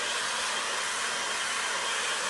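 A hair dryer blows steadily and close by to dry a wet watercolour of a Cape Wrath, Scotland landscape, a continuous loud broadband whoosh with no pauses and no talking.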